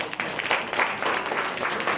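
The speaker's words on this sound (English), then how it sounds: "So give him a big applause." A conference audience bursts into applause, a dense, steady wash of many hands clapping at close range that carries on evenly for the whole stretch with no talk over it.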